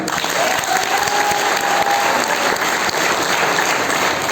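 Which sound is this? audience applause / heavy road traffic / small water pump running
audience applause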